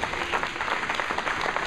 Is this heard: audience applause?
yes